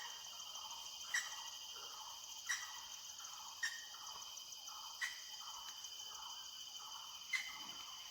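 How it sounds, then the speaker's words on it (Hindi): Sharp, distant woodpecker taps sound at irregular intervals, about one every second or so, over a steady bed of buzzing insects and faint birdsong. "वुडपेकर है, कठफोड़ुआ"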